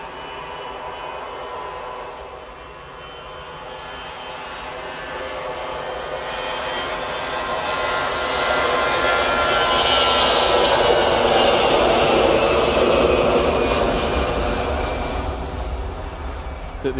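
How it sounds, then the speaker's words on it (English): An easyJet airliner on its takeoff roll at Manchester Airport, its jet engine roar swelling steadily to a loud, sustained peak around the middle before easing slightly as it passes into the distance. "Finally, easyJet's on the roll."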